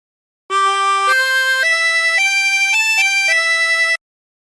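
A harmonica plays a slow hymn phrase from Be Thou My Vision, a single clean line of held notes stepping up and down, alone and close with no talking.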